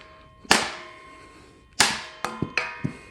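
Survival knife blade striking wood in heavy chops, two big hits followed by three quicker ones, each a sharp near crack with a short ringing decay.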